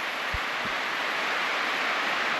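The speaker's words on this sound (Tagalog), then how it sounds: "Ayun, lakas ng ulan, no?" Heavy rain pours steadily over a windy campsite, a dense even hiss with no letup, with a couple of faint low thumps near the start.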